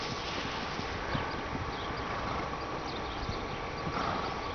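Ponies, a Shetland and Missouri Foxtrotter cross, turned loose into pasture, with hooves clip-clopping in quick irregular steps at moderate distance over a steady outdoor background.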